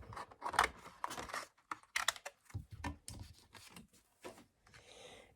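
Scissors snip through cardboard cut into small flower shapes for handmade paper flowers, giving close, crisp bursts of cutting and rustling in an uneven rhythm with short pauses.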